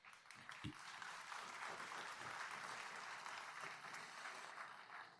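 A crowd at a New Year's greetings ceremony in France applauding steadily, a dense even wash of many hands clapping, fairly distant and faint, continuing for several seconds.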